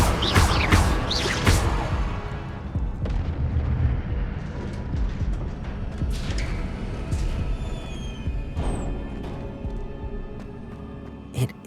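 Incendio fire spell cast in Hogwarts Legacy on PS5: a burst of roaring flame opens loudly, followed by crackling magical blasts and whooshes that fade and return, ending in a sharp final hit.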